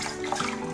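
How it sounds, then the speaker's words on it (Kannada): Water being tipped out of a vessel of soaked horse gram, a short steady splashing pour up close with no talk. "ಮತ್ತೆ ಪುನಃ ಈ ನೀರನ್ನು ಈ ಪಾತ್ರೆಗೆ ಹಾಕೋದು, ಮತ್ತು ಹಾಗೆ ಬಗ್ಗಿಸೋದು."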